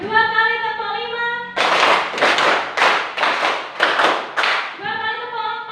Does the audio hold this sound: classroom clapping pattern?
yes